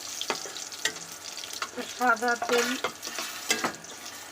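Chopped garlic and onion frying in white oil in a pan on an induction cooktop, busy sizzling with repeated spatula scrapes and stirring, close by, with a brief tonal whine midway.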